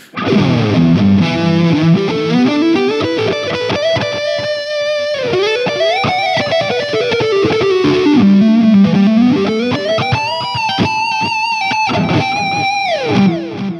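A distorted electric guitar lead solo tone from a Line 6 Helix, with sustained, bending notes and a slight chorus-like shimmer, loud and continuous with no talking.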